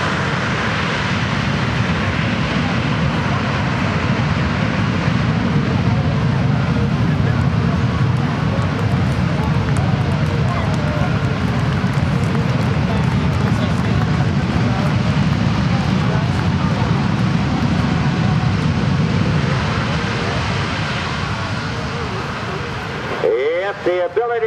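USAF C-17 Globemaster III landing at an air show with thrust reversers deployed, a loud, sustained broadband roar of jet engines that holds steady for over twenty seconds before easing off, with people talking beneath it.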